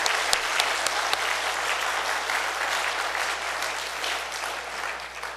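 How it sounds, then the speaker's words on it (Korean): A church congregation applauding during a Sunday afternoon dedication service, a steady, dense wash of clapping that holds at an even level for several seconds without letting up. "하나님 앞에 영광의 박수를 돌리며 격려 한번 하도록 하겠습니다"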